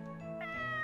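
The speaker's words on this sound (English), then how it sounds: "it let out an adorable meow" A single short cat meow in the horror video game Corpse Party: Book of Shadows, clear and close, with a soft tonal game music backdrop underneath.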